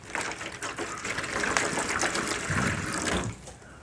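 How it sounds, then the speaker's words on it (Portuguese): Water poured into a pet's bowl, a continuous close splashing gush that runs for a few seconds and then stops abruptly, with no talking. "deixa eu colocar água aqui para Atena."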